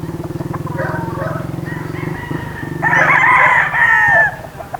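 A gamefowl stag rooster crows loudly and close once, the drawn-out call rising after a stretch of rhythmic low clucking or engine-like pulsing.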